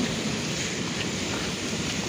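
Steady rain falling during a thunderstorm outdoors, a dense even hiss of drops with no talk, close and constant.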